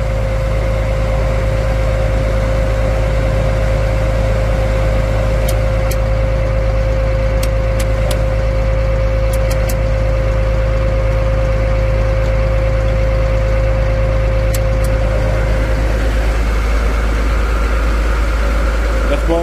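A 1994 Caterpillar 953B track loader engine runs steadily at a loud, even drone with a constant low hum and whine, close by, with an HVAC fan blowing alongside.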